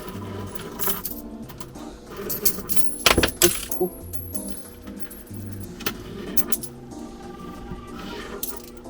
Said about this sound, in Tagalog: Tanggalin ko muna yung mga barya.